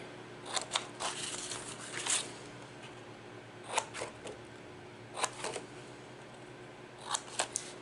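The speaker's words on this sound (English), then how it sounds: "you're going to cut in on those score lines" Scissors snip through scored paper in short bursts of crisp cutting clicks, a few quick snips clustered with pauses between, close and fairly quiet against a faint steady hum.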